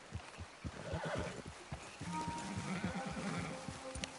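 Horses in the Red Dead Redemption 2 video game whinny and neigh over a steady clip-clop of hooves, fairly close and continuous through the clip, with no talk.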